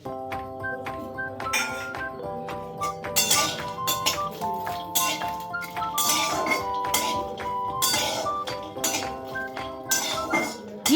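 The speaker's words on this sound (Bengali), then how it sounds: "এইগুলোকে আমি প্রথমেই শুকনো কড়াই একটু হালকা নেড়ে নেবো" Garlic and green chillies stirred in a dry kadai, the metal spoon striking and scraping the pan in rapid, ringing clinks and scrapes, close and steady throughout with no talking.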